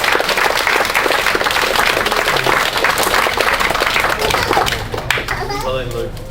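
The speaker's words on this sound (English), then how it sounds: "Round of applause for them." Wedding guests at a reception break into loud, sustained applause that fills the room, dense clapping that tapers toward the end as a voice starts up.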